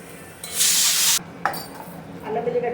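Garlic dropped into hot oil in a pan for onion sambhar, a loud burst of sizzling that flares for about half a second, cuts off, then gives way to softer stirring and light clatter of the pan.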